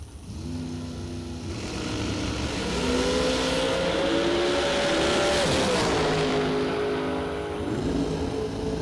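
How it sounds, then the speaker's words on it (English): A Miller chassis dragster races down a drag strip, its loud engine roar building and rising in pitch, then dropping away with a second engine audible in the other lane. "Either way, it's a Miller chassis. It's a dragster."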